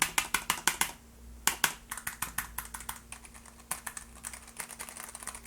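Rapid clacky keystrokes on a Keychron K3 mechanical keyboard with brown switches, a steady close-up stream of taps with a few brief pauses, no talking.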